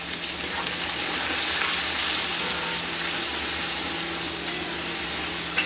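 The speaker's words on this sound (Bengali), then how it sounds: "এটাকে আমরা লাল লাল করে ভেজে নেব" Chopped onion and whole garlic fry in hot oil for a mutton curry, giving a steady, even sizzle that continues unbroken at a moderate level, close up and without talking.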